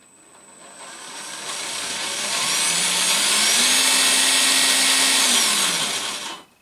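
Electric motor of a Yikong YK4082 1/8-scale RC crawler spinning up gently, a rising whine that swells, holds steady near, then cuts off abruptly.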